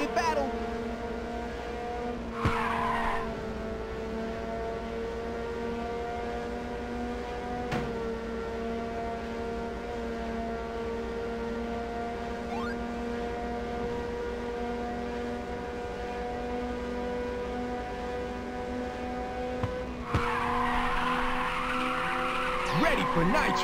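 In the Ridge Racer 2 racing game, a car drifts with a long sustained tire skid and squeal under a droning engine. Brief bursts of louder noise appear near the start and the end.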